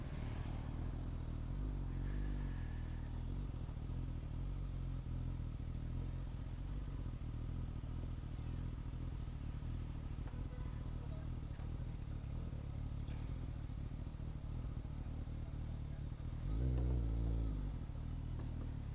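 A Suzuki GSX-S1000 motorcycle rides at night, its engine a steady low drone heard from the rider's position, with a brief thump and a swell of engine noise near the end.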